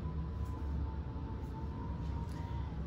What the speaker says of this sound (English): the wind is so vicious right now